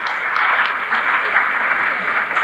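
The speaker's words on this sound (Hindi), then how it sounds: "आप लोग तालियों से श्री राजकुमार जी का धन्यवाद स्वागत करें।" A crowd at a community gathering applauding in a steady, even patter of many hands, loud and close for a few seconds.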